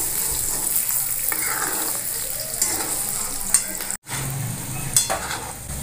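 Potatoes frying in hot oil in a pan while being stirred, a steady sizzle broken by scraping stir strokes, close and fairly loud with no talk.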